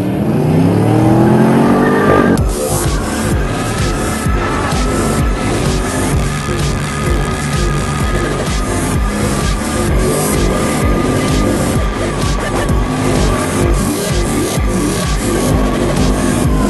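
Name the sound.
car drifting with tire squeal and burnt rubber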